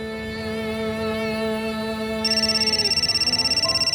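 A mobile phone ringtone plays a sustained melodic tone, then shifts into a rapid pulsing ring pattern that repeats through the end, clear and alone with no talk.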